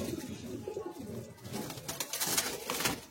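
Pigeons, a female among them, coo softly and repeatedly in a loft, the throaty calls layered over one another at moderate distance with no talking.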